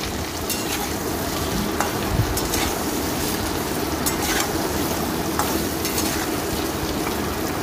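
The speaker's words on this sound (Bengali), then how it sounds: "ফ্লেমটাকে মিডিয়ামে রেখে আমি এটা ভাজা করব।" Potatoes frying in oil in a wok with a spoonful of salt over a medium flame, a steady loud sizzle with occasional stirring scrapes, close and continuous with no talk.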